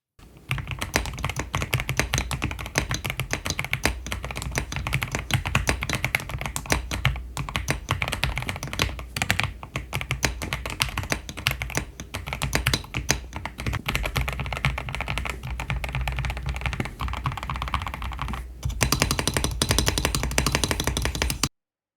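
Steady, rapid typing on an Epomaker RT100 mechanical keyboard, dense clacky keystrokes running continuously up close, with a brief louder burst near the end.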